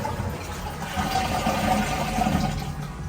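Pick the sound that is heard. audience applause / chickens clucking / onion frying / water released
water released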